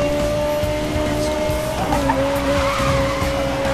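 A fast car in Need for Speed Most Wanted racing through London, steady loud engine roar with a sustained high whine and tire squeal, rising in pitch partway through as it accelerates, with faint voices underneath.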